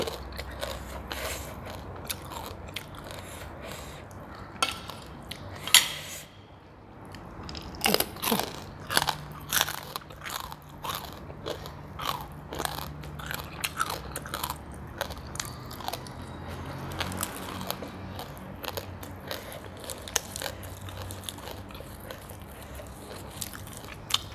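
Crispy fried fish and fried chicken skin eaten alongside spicy papaya som tam, heard as a close series of sharp crunchy bites and chewing, irregular snaps and crackles scattered through a quiet background with no talking.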